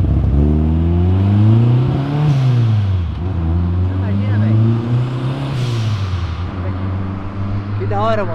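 A turbocharged Subaru fitted with a Fiat Punto engine revs hard at a car event exit, its loud engine note rising and falling in repeated sweeps with a whistling turbo edge and some crowd noise.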